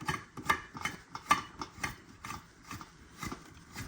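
Threaded plastic part of a DynaTrap insect trap being screwed tight by hand, giving a series of close, light ratcheting clicks and scraping creaks in an irregular rhythm, with no talking.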